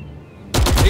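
Sudden burst of rapid gunfire in the World War II video game Classified: France '44, loud and close, erupting after a quiet moment and continuing as a dense volley.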